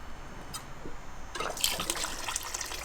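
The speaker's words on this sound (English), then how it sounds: "I'll just drain it into the bucket." Water draining from an RV low point drain into a bucket during winterizing, a quiet lull and then a close splashing, gurgling flow starting partway through and continuing to the end.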